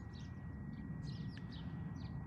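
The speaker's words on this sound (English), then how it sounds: "Birds are singing." Small birds chirping in early spring outdoors near a river, several short high calls scattered across a constant low rumble of wind or distant traffic, faint and at a distance.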